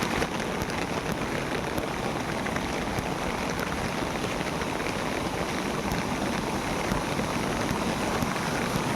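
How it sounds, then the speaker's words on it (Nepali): Rain falling steadily in hilly countryside, a dense even hiss of drops on surfaces with faint rustle, continuous and moderately distant with no voices. "पानी परिरहेको छ।"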